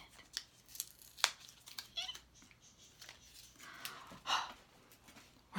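Tape tears off a tarot deck box in short, sharp rips and crackles, close and fairly quiet, set apart by brief pauses of near silence.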